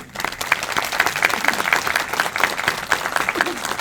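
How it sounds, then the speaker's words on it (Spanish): An audience applauds to welcome a speaker at a book presentation at the IPN's CIECAS, with dense, lively hand claps holding steady and fairly loud throughout. "Lo recibimos por favor con un fuerte aplauso."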